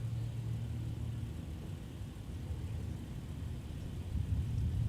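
A jet engine spools up at MSP airport, heard as a steady, distant low rumble that swells slightly toward the end.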